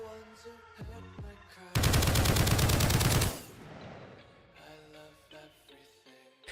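Assault rifle in the game Project Onyx firing one loud, rapid automatic burst of about a second and a half, standing alone between quieter sounds.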